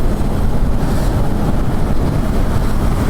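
Strong wind roars and buffets against the microphone during a motorcycle ride from Cubao to Balintawak, a dense, steady low rumble that fills the whole clip with no voices.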